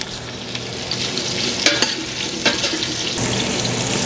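Sausages for jambalaya fry in hot oil with a constant close sizzle, while a couple of brief scraping stirs in the pan cut through the crackle.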